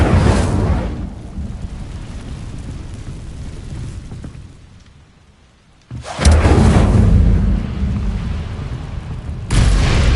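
An Incendio fire spell goes off in Hogwarts Legacy as a loud, booming whoosh of flame, fading to near quiet, then two more heavy bursts follow in quick succession.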